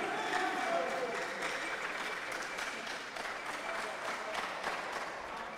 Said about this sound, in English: Oh, won't you clap for them?